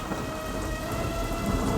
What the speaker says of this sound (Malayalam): ആകാശത്ത് ഇടിയും മിന്നലും വന്ന് അതിശക്തമായ മഴയും തുടങ്ങി